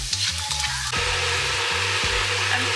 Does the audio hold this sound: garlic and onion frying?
yes